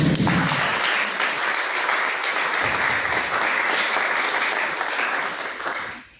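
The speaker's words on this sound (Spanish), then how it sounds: "agradezcamos con un fuerte aplauso" Loud, dense applause from a crowd that continues steadily, then fades out at the end.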